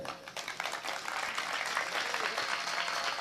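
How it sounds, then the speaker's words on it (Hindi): Sustained crowd clapping from a large audience at a Hindi veer ras poetry recital, steady and dense throughout, with no voices rising above it. "आपकी तालियां मुझ तक पहुंच रही है"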